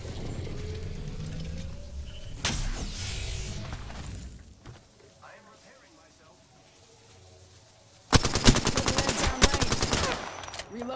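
Automatic gunfire in the Apex Legends video game: a long rattling burst early on, a quieter stretch, then a loud, dense volley near the end, with game voice lines playing throughout.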